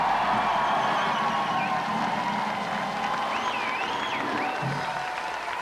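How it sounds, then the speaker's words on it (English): Sustained audience applause with some cheering after a stage performance at a radio station event, a steady, moderately distant clatter of clapping throughout. "colossal round of applause"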